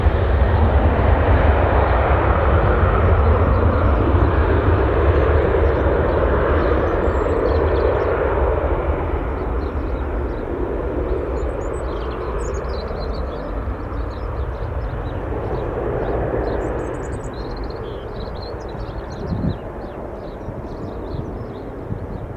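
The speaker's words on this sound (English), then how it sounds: "Right, 737 on the roll." Boeing 737 on its takeoff roll at Bristol Airport, a loud broad jet roar that holds strong then slowly fades as the aircraft pulls away, with no talk over it.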